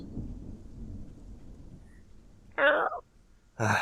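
In a stage play, a thunderstorm and rain sound effect rumbles low under the scene, broken by two short, loud bursts that may be voices.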